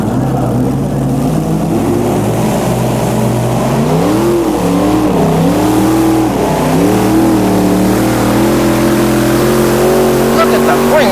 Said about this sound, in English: For the Redman 9000 modified pull-off, Tim Engler, Todd Stone, Bruce Hutcherson